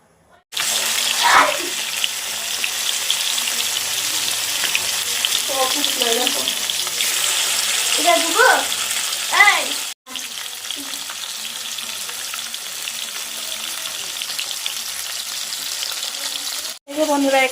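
Saag greens sizzle in a pan in a Bengali home kitchen, a continuous loud frying hiss with scattered stirring clinks, cut by two brief silent breaks.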